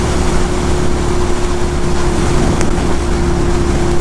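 Motorcycle engine held in fifth gear at 5000 rpm while riding, a loud steady drone with a constant tone, mixed with heavy wind rush and no breaks.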